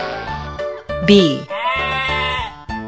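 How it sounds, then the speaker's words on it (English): A sheep bleats in loud, close, wavering calls, a sharp rising cry followed by a longer sustained baa, with a voice briefly heard around the calls. "Sheep."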